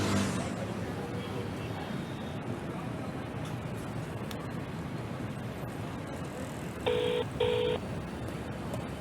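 Two short keypad tones sound as a phone number is dialed, a quick pair of beeps over a steady background of traffic and room noise.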